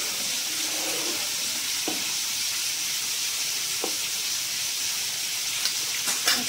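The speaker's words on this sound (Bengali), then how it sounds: "একটু নেড়ে দেবো।" A pot of khichuri with rice and lentils simmers and gets a stir, a steady bubbling hiss with a few short spoon scrapes against the pot, close and even, with no talking.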